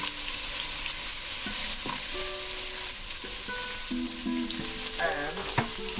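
Carrots and spring onion hit hot oil in a pot for an Italian lentil and tomato soup, a dense continuous sizzle with occasional scrapes and clinks of stirring close by.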